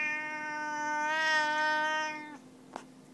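A pet cat gives one long, drawn-out meow that rises and then falls away, followed by a small click, heard up close in a quiet room.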